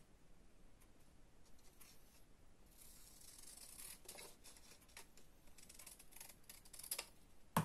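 Scissors cutting through watercolor-style card stock, a faint series of close snips and paper rustles, quiet at first and growing busier toward the end.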